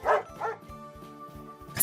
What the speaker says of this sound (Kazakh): Ит. Ит.